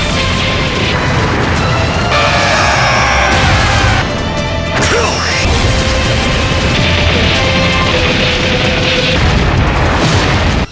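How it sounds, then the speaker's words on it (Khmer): A cartoon explosion goes off as two fighters' hands clash in a Dragon Ball Super battle arena, a loud, continuous roaring blast with crashing bursts that lasts the whole stretch. "ខណៈដៃរបស់អ្នកទាំងពីរប៉ះគ្នាតែ ប៉ុណ្ណោះធ្វើឲ្យទីសង្វៀននឹងគឺថាផ្ទុះទាំងពេញនឹង"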